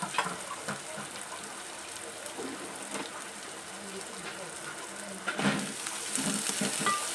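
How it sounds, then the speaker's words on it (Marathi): Chopped onion with green chillies sautés in a pan for a spicy okra dish, giving a soft, steady sizzle and scraping stir sounds that grow slightly louder toward the end, heard beneath a woman's speech. "त्याच्यामध्ये आता हा कांदा मी टाकून घेणार आहे मिरच्या बरोबर बरोबर परतून घेण्यासाठी"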